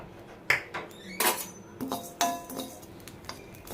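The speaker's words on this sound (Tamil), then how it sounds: "மல்லியை வறுத்துக்கலாம்" Coriander seeds dry-roasted in a pan for Chettinad mushroom curry, a spoon clinking and scraping against metal in scattered strokes, close and moderately loud with no voices.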